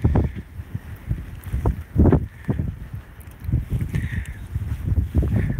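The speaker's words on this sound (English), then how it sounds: "You can hear the wind." Gusty wind from Winter Storm Riley buffets the microphone in uneven low rumbling bursts, swelling and fading over a steady outdoor background.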